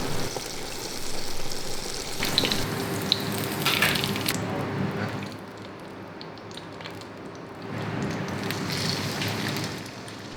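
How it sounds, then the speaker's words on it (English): Water hits a hot pan of frying pot stickers and sets off a loud, rushing sizzle that eases midway, then swells again in a second burst of crackling steam. "Add water so that the dumplings stay moist."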